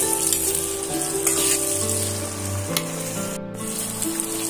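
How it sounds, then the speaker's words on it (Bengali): Onions frying in hot oil in a pan, a continuous soft sizzle with crackling, heard under steady tonal background hum. "পেঁয়াজটা দিয়ে আবারও আমি পেঁয়াজটা সুন্দর করে লাল লাল করে ভাজা করে নেব।"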